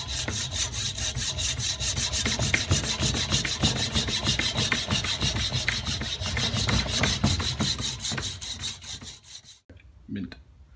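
Hand sawing through a BMW E30 control arm bushing, a steady rapid back-and-forth rasping of blade on rubber and metal that runs loud and continuous, then stops abruptly near the end followed by a few faint knocks.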